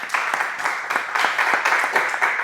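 Audience applause at a public-speaking event on impromptu talks, a steady wash of many hands clapping, moderately loud and continuous throughout.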